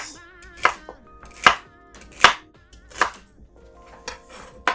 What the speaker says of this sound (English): I've got 4 stalks of celery here. And if you cut into bigger chunks